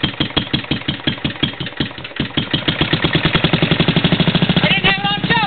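An old Simplicity walk-behind tractor engine cranks over with rhythmic chugging, catches and settles into a steady, loud, close-up running idle.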